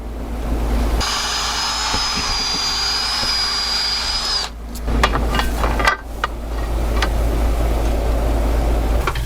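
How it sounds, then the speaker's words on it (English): A power drill bores a hole for a screw head in a Tapco security screen during installation. A steady, loud whine lasts a few seconds, then a run of clanks and knocks follows. No voices are heard. "So you just drill a hole big enough for the screw head to go through and go through into the inside of it."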